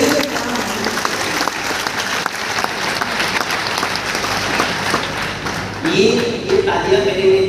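Audience at an Ayurveda expo lecture breaking into sustained applause, with dense clapping throughout and a voice speaking over it near the end.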